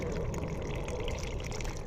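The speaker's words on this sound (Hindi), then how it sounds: "फिर इसके बाद हम इसमें पानी दे देंगे" Water poured steadily over freshly planted ivy gourd (kundru) cuttings pressed into potting soil, a continuous close splashing trickle lasting throughout with no voices.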